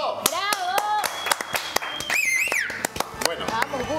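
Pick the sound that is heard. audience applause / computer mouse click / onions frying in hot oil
audience applause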